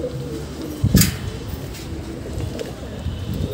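A pet pigeon, just given roti and millet, coos in low, soft murmurs close by, with a brief louder rustle around the first second and a steady faint background hum.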